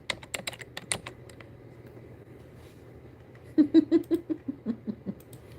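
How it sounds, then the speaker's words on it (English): Typing on a computer keyboard: a quick burst of clicks at the start, then a pause, then a louder, closer run of about ten keystrokes toward the end, with no talking. "Now you got me all self-conscious about my damn typing."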